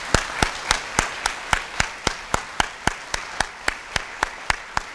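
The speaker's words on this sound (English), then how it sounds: "Let's give them a big round of applause." Slow, evenly spaced claps at a courtroom adoption day ceremony, about twenty sharp distinct hits, moderately loud and near, with no talk over them.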